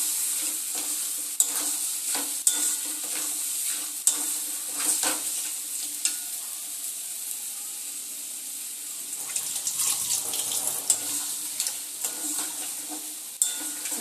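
Washed crabs frying and being stirred in spicy masala for a crab curry, giving a continuous hiss of frying with regular utensil knocks and scrapes against the pan and no talking.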